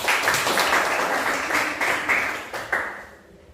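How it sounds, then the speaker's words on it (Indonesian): A classroom of students gives a short round of applause, steady clapping that thins out and fades over about three seconds. "Tepuk tangan dulu untuk kita hari ini."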